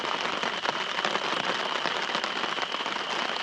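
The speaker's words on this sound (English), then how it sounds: "A good downpour, finally." Dense, constant hiss of heavy rain pouring down during a thunderstorm at a campsite, loud and close, with no voices.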